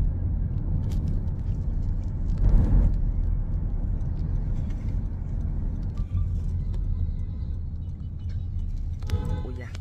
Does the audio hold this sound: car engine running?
yes